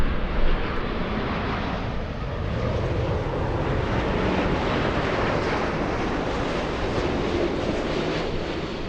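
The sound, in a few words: Japan Airlines Boeing 787-9 flying in to LAX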